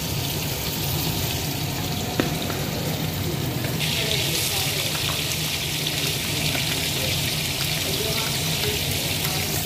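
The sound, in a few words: whole cumin and bay leaves frying in a kadai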